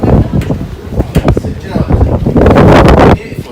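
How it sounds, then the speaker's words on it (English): Gusty wind buffets the microphone on a windy day out by a horse field, a loud rumbling roar that rises and falls, with people talking over it. "Oh, what a windy day, isn't it?"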